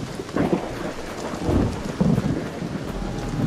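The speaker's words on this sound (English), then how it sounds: "an electromagnetic storm is currently raging over Topside" Video game electromagnetic storm raging over Topside: steady rain hiss with low rolling thunder rumbles swelling a few times, fairly loud and continuous, no talk.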